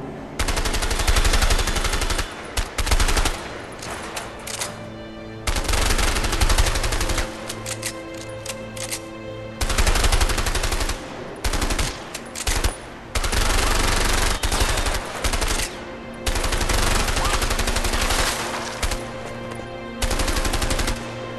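Rapid bursts of automatic gunfire from the video game A Way Out, loud and close, coming in repeated volleys with brief pauses between them and no talking.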